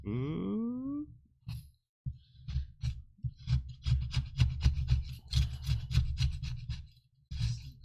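A scraper works dried oil paint off a glass palette in a rapid series of close, rough scraping strokes, with short pauses between bursts and a brief whining squeak at the start.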